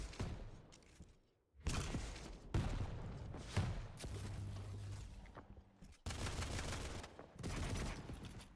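Heavy explosive bursts and blasts from a Quake Champions duel, each burst followed by a short gap. The volleys come in rapid clusters across the fight.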